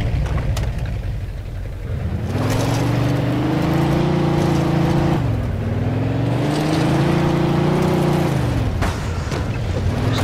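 A battered car in the Mafia II video game drives with a loud, steady engine drone that rises and falls as it revs, heard on its own without talk.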